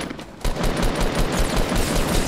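Rapid automatic gunfire from a Fortnite duo battle royale match, a dense, loud burst of repeated shots continuing steadily for about two seconds after a brief quieter start.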